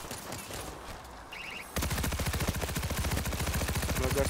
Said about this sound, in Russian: Автоматическая турель.